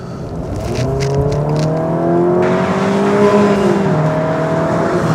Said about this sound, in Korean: 네 그럼 지금부터 크라이슬러 200c와 함께 달려보겠습니다